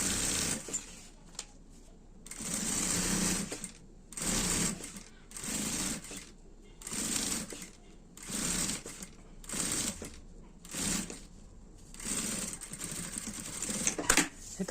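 A domestic sewing machine stitches a bag's lining in a series of short bursts separated by brief pauses, with backstitching at the start and end of the seam; the motor whirs close and steady, with no talking.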